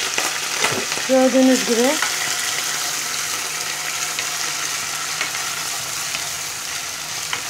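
Meat for et kavurma hits well-heated oil and sizzles and crackles loudly and continuously, with stirring noises and a brief spoken phrase early on.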